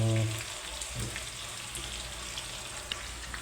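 Chicken pieces fry and sizzle in hot oil in a pan for Filipino chicken adobo with hotdog, a steady dense crackle running throughout after a brief low thump at the start.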